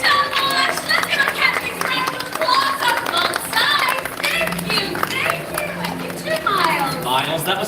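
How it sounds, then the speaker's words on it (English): Audience applause at an Animal Kingdom bird show, scattered clapping from many hands under a presenter's steady talk and bird-like calls. "Let's give a Captain Frank applause on both sides"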